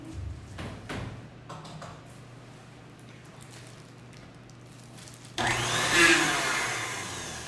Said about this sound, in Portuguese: Eu vou ligar minha batedeira aqui.